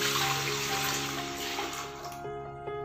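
Water used to soak dal and gram is poured together into one container, a steady close splashing stream that thins out and trickles toward the end, with no one talking.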